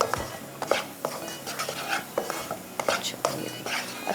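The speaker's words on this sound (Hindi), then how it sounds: "इस टाइम पे आपने मुसलसल इसमें चम्मच चलाना है" A spoon scrapes and clinks repeatedly against a cooking pot while a mixture for laddu is stirred and roasted, a steady close run of metallic knocks and rasps with faint background murmur.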